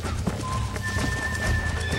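Horse hooves clip-clop steadily in Red Dead Redemption while a horse neighs, with a faint low game ambience underneath; no one talks.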